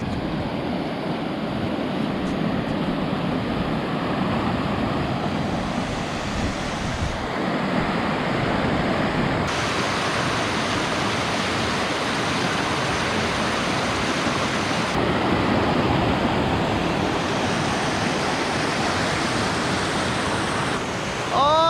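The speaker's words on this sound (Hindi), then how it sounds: "तो नदी में फ्लो काफ़ी ज़्यादा है, करंट काफ़ी ज़्यादा है" A fast-flowing river near Lal Jhamela Basti in the Doars rushes with a steady, loud broadband roar, continuous throughout with small shifts in intensity and no voices.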